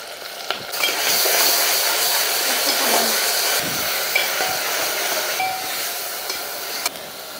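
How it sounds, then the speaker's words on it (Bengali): Chopped onion and garlic paste fry in hot oil with a continuous close crackling sizzle, a few soft clinks of a spoon, steady throughout with no voices. "তেলটা গরম হয়ে গেছে, এখন দিয়ে দিচ্ছি পেঁয়াজ কুচানো, দিয়ে দিচ্ছি রসুন বাটা 1 চামচ"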